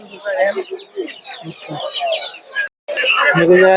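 Chickens cluck and squawk up close amid chatter at a rural poultry market selling chickens, ducks and quail in Narsingdi, Bangladesh, with voices talking around them.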